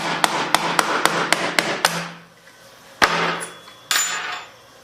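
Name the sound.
plastic screwdriver base hitting a pin on a CZ Scorpion Evo 3 pistol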